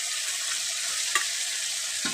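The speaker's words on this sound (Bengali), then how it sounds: "ফুলকপি আর আলুটাকে মিশিয়ে নেব।" Fried potato and cauliflower are stirred in a pan, giving a bright, continuous sizzle with a few scraping knocks from the spoon, close and fairly loud.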